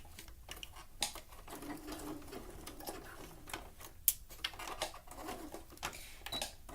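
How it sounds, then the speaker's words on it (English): A sewing machine basting elastic in short bursts, a quiet mechanical whir and patter that stops and starts with a few sharp clicks. "I'm just basting my elastic to, oh, we got a little stuck there."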